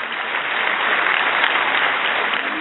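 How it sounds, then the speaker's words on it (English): Steady, dense crowd applause for German Chancellor Angela Merkel at the 70th D-Day anniversary ceremony in Normandy, a loud continuous wash of clapping with no pauses. "Angela Merkel was applauded."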